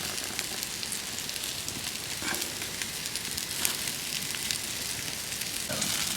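Tandoori chicken frying in ghee outdoors in a forest, a steady close sizzle and crackle with a few louder pops, continuous and alone with no talk.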